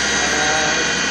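2000 Atrump B5FC CNC machine spindle running at maximum RPM, a loud, steady high-pitched whine with a constant tone and no variation, close by and alone.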